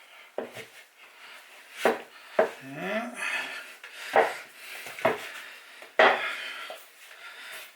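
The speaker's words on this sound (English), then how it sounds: "Scrape this sticky remains off the bowl." Sticky bannock dough being scraped off a bowl, a series of close, irregular rasping scrapes and rubs of a utensil against the bowl, with quiet pauses between strokes.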